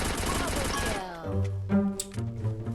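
Rapid gunfire from a shooting video game comes as a quick loud burst of shots at the start, then fades into tonal game sounds while a voice talks over it.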